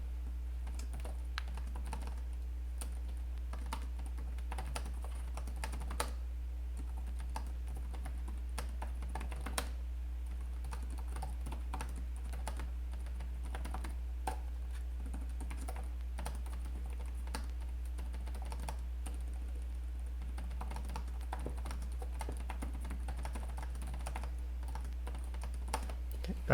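Steady typing on a 2024 Lenovo LOQ Essential Gen 9 laptop keyboard, a continuous run of soft, quick key clicks at close range over a low electrical hum, with no talking.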